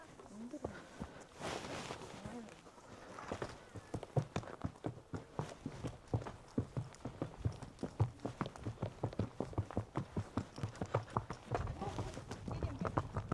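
A horse trots on a rural herder's homestead, hooves clip-clopping in a quick, even rhythm that grows louder and nearer, with people talking over it.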